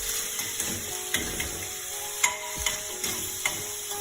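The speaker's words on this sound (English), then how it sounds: "You don't need to fry your ham too much." Ham sizzles and fries in a pan for Eggs Benedict, a steady close hiss with scattered clicks and stirring taps.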